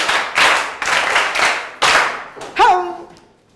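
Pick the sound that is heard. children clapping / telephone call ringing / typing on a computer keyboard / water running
children clapping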